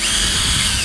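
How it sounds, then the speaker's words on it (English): A big power drill boring through material, a loud, steady, high whining grind held continuously and close with no pauses. "All right, now ready for the big drill."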